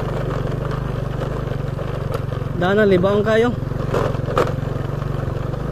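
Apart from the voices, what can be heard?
motorcycle engine riding uphill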